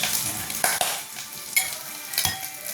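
Ginisang munggo sizzling in a pan as mung beans, spinach, chili and garlic are stirred and sautéed, with scraping stir strokes over a close, crackling fry.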